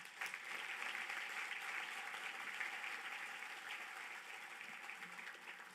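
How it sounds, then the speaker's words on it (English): Faint, steady applause from an audience at a Texas High School Football Hall of Fame induction ceremony, a soft continuous patter of clapping heard from a distance. "Please give them a round of applause."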